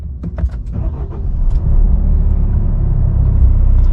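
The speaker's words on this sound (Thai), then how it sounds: "เดี๋ยวเราลองสตาร์ทเครื่องดูครับ" A Nissan Navara 4x4 pickup engine turns over and settles into a steady low idle rumble, with a few faint cabin clicks before the start.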